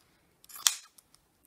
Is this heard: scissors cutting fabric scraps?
yes